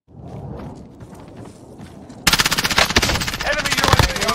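Gunfire in a first-person shooter match, starting with softer movement noise and then breaking into a loud, sustained rapid string of automatic shots.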